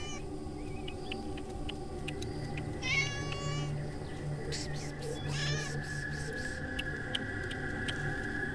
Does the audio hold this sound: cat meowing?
yes